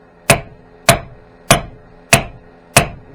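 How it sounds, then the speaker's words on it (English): Sledgehammer tapping a Corvette trailing arm bushing into place, five sharp metallic strikes at an even, steady rhythm, close and loud with short ringing decays and no talking. "take your sledgehammer, try to hold everything on there nice and centered. Couple light taps"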